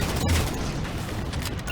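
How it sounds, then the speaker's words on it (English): Railgun firing at phantom dropships in the Halo 4 video game, a sharp crack near the start followed by a continuous rumble of battle gunfire and booms throughout. "Target those phantoms for the railgun to shoot down."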